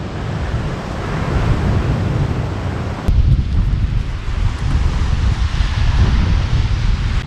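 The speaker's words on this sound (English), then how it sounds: "That is some seriously strong wind." Strong, gusting wind roars at a lakeside campsite on Loch Ness, buffeting the microphone with continuous low rumbling that swells louder partway through.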